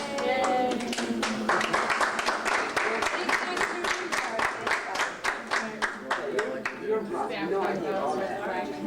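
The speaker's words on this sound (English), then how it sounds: "Oh, we got a clap." Rhythmic clapping by a group at a 1995 Northeastern graduation gathering, a steady run of distinct claps in even time, with people talking over it.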